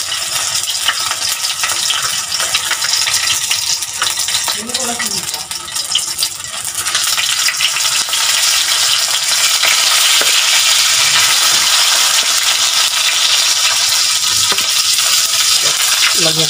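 Siomai frying crisp in a hot pan, a steady loud sizzle with bubbling crackle throughout and occasional scrapes and clinks of a utensil against the pan.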